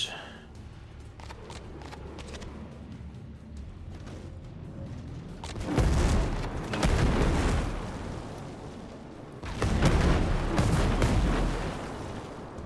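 Two heavy rocket explosions in Ghost Recon Breakpoint burst out over a backdrop of scattered gunfire, each a loud, booming roar lasting a couple of seconds, the second following about four seconds after the first.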